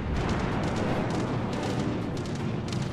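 Guns of the Champagne, a Tier 7 premium battleship in World of Warships Legends, fire in a rolling, continuous rumble of booming salvos. The barrage stays steady and loud, with no voices over it.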